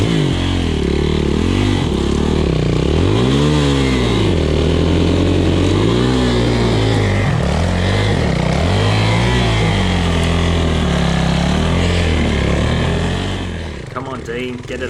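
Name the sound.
enduro dirt bike engine running and revving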